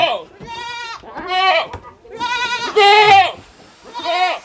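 A one-month-old male goat kid bleats repeatedly in loud, close, quavering cries with short pauses between them, alone without talk.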